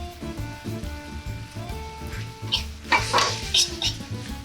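Pasta seasoned with salt and pepper being tossed in a pan, light clattering and sizzling bursts rising midway over a soft steady tonal hum from the stove.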